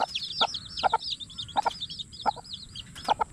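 A brooding hen clucks near her eight chicks, giving short low clucks in a loose repeating rhythm beneath a constant layer of high, shrill chick peeping, close and clear.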